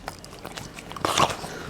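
A bulldog crunches kibble close up, with a quick series of crisp bites that grow louder and denser toward the end.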